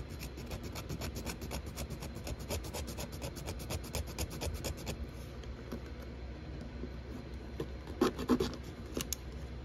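A hand saw or blade cuts around the rim of a model car to make deep dish wheels, giving a steady close rasping and scraping rhythm that eases off midway, with a few sharper scrapes near the end.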